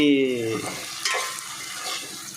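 Paneer cubes fry in hot oil for palak paneer: a loud, continuous close-up sizzle with a spatula scraping and stirring through the pan.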